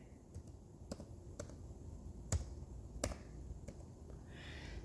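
Quiet typing on a computer keyboard, a handful of sharp, separate key clicks spaced irregularly over a faint background hum, with no one talking.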